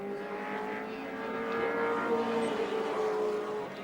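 Touring race cars lap the Wanneroo circuit in a 1984 championship round, a moderate engine drone with a sustained whining tone that builds slightly and holds.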